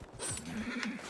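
Horse in the video game Dragon Age: Inquisition giving one short, faint neigh, heard alone.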